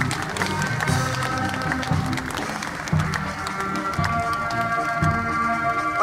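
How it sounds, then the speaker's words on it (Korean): An audience at a Buddhist dharma ceremony marking the 50th anniversary of Korean military chaplains applauds steadily, with sustained musical tones ringing beneath the clapping. "큰 박수 부탁드리겠습니다."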